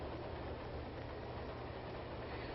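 A 1930s passenger train rolls steadily along, a continuous low rumble and broadband hiss with no distinct clacks, faint and even throughout with no talking.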